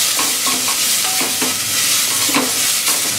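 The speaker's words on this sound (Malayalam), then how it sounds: "വീണ്ടും നന്നായിട്ടൊന്ന് ഇളക്കി കൊടുക്കുക." Grated carrot stirred through hot oil in a pan for carrot rice, a steady close sizzle broken by repeated scraping strokes of the spoon at a loose, even rhythm.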